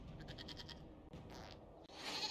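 Goat bleating in the fantasy role-playing game Dragon Age Inquisition, a series of short quavering bleats close by, then a longer bleat, over faint ambient background noise.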